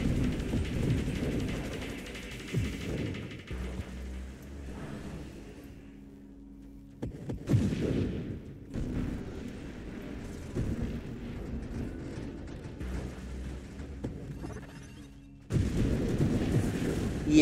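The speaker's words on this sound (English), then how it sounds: "Instead of having just one bolt, it's now gonna have a big old explosion." A video game shield breaking sets off big booming explosions, with heavy rumbling bursts at intervals between quieter stretches of game sound and low effects.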